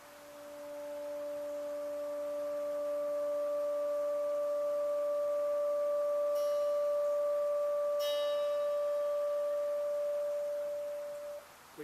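A single electric guitar bottom string, sustained with an EBow, rings as one smooth, unbroken tone that swells in and holds evenly for over ten seconds before cutting off, with no other sounds.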